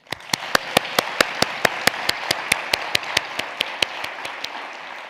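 Steady rhythmic clapping from an audience at a literacy beneficiary announcement ceremony, sharp even claps in a regular beat over a soft wash of applause, continuing moderately loud throughout.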